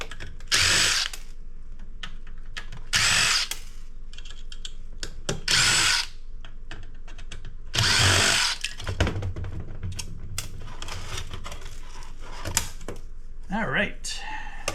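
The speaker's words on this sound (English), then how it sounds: "Just start taking out screws wherever we find them." A power drill backing screws out of a scrap electronic device, several loud whirring bursts of a second or two each, close up, separated by clicks and handling noise, with a person talking at the end.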